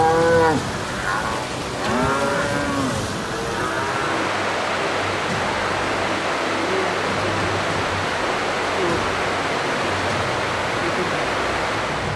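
Several cattle in a herd low and moo in overlapping calls during the first few seconds, set against a steady roar of rushing water or heavy rain from a storm and flood that then dominates alone.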